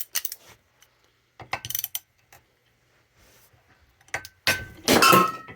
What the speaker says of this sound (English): that's a great ratchet